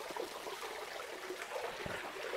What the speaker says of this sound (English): I will still fill water to make it up to that level.